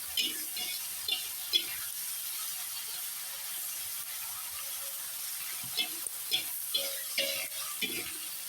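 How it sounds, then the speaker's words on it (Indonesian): Ingredients fry in a pan with oil for a sambal, the water cooking off as a steady, soft sizzling hiss, with light scraping and clinks, and a voice talks over it. "Nah, ini kita goreng hingga kadar airnya ini berkurang ya pemirsa."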